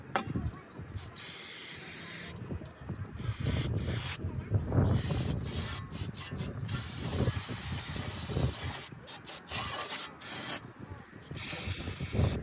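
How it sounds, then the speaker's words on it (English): Several bursts of brake cleaner aerosol spraying car brakes, hissing close by, with short pauses between them over a steady background rumble. "do a quick little spray down"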